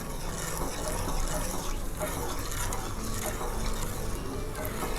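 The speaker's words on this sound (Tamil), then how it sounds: "இதில் வந்துட்டு ஒரு கப் அளவு தண்ணியை சேர்த்து நல்லா பாகாக காய்ச்சிக்கலாம்" About a cup of water pours into sugar in a cooking pan to make syrup, a steady splashing gush that fills the scene at moderate, close volume.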